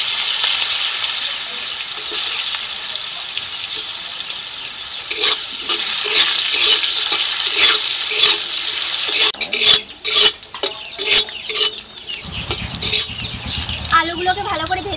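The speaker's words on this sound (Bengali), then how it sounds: "আলুগুলোকে ভালো করে ভেজে নিয়েছি" Potatoes fry in oil for a thick, loud sizzle, then a run of rhythmic scraping and stirring strokes, and near the end the frying tone drops into a lower, rougher bubbling.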